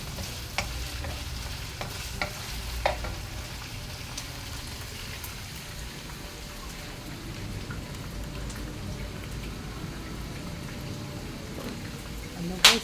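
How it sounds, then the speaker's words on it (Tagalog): Food sizzles and crackles in a hot pan while it is stirred, a steady fry with scraping strokes and occasional clanks of the utensil, and a voice briefly in the background. "Halo-haloin natin, guys"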